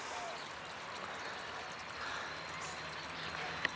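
Water pours steadily from a homemade pond filter pump, a continuous even rush and trickle, moderately near, with a tiny click near the end.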